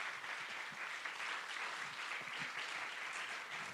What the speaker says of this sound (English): Please, can we give us an applause?